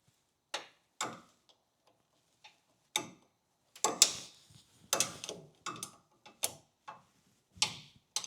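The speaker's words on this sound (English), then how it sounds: "I'm going to switch over to one of my long ratchety wrenches and see if that's any easier." A long ratchet wrench works bolts on a first-generation Toyota Tacoma steering rack, giving sharp clicking bursts that start sparse and grow into quicker, irregular runs of pawl ticks, close and fairly loud with no talking.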